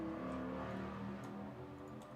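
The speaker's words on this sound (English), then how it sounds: "Sorry for the motorcycle sounds there. They have been really crazy active today." A motor vehicle outside on the street, a low droning engine hum with faint ticking that fades slightly over two seconds.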